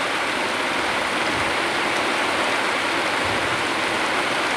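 Steady rain falls on a house construction site where terrace work has stopped, a dense continuous hiss with no breaks and no voices.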